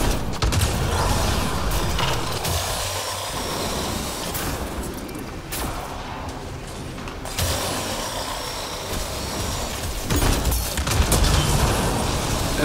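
Sustained heavy weapon fire in Apex Legends roars on loudly and almost without pause, dense and harsh, with brief dips and swells as the shooting continues and no talking.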